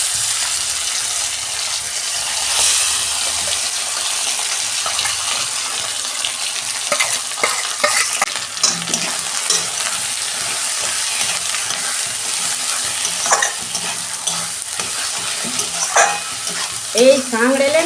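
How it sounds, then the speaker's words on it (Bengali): Teasel gourd paste frying and being stirred in a pan with chilli, a steady close sizzle broken by frequent scraping strokes of a spatula, with no talking. "আমি এই যে কাঁকরোলের পেস্টটা দিয়ে দিচ্ছি"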